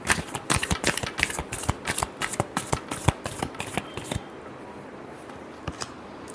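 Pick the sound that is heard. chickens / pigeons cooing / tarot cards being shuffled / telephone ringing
tarot cards being shuffled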